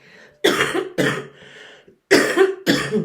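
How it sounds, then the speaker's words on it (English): Four harsh coughs in a short burst, close and loud, with brief gaps between them and a faint hum underneath. "sorry for coughing"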